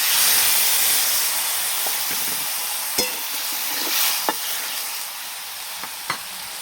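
Water poured into frying vegetables spiced with salt, turmeric and cumin sets off a loud steady sizzle and hiss, with a few sharp scraping stirs of a spatula in the pan.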